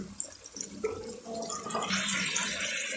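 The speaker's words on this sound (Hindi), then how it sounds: "उबाला आ गया है, आँच धीमी करूँगी।" Chicken is cooking in a pot of water that comes to a boil, its soft bubbling swelling into a louder, steady rolling wash partway through, heard close with no voices.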